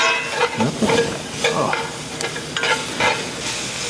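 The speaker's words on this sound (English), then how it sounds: "So now I've got a cup of minced onions that I'm going to put in. And stir that in." Cup of minced onions tipped into a hot pan and stirred, a steady close sizzle with scraping strokes of a spoon recurring every second or so, no voices.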